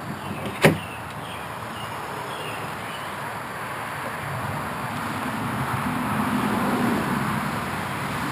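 Chevy Avalanche tailgate opened: one sharp latch click near the start, then a quiet outdoor hush with faint distant traffic.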